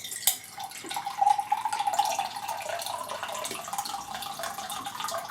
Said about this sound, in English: If I pour some liquid